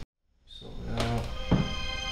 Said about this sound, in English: we added a choir.